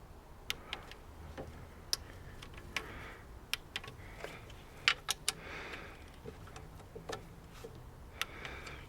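A torque wrench tightens cam cover bolts on a Fiat Seicento Sporting engine, giving a series of light, sharp metallic clicks and ratchet ticks at irregular intervals, close and fairly quiet.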